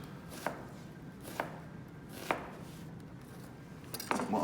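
Knife dicing an onion for pico de gallo: four sharp board chops spaced about a second apart, with a quicker flurry of cuts at the end, close and clear over a quiet kitchen.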